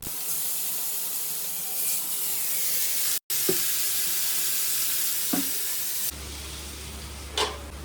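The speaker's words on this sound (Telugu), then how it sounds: "చికెన్ అయితే మ్యారినేట్ అయిపోయింది గ్రిల్ చేసుకుందాం మనం ప్యాన్కి ఆయిల్ అప్లై చేసేద్దాం" Marinated tandoori chicken grills in an oiled pan with a continuous bright sizzling hiss, close and fairly loud, broken by a brief dropout and a few soft clinks, then shifting to a lower hum near the end.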